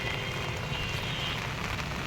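Heavy rain pours down during a flood in Prayagraj, a dense, steady hiss of drops drumming on surfaces and an umbrella, loud and continuous with no break.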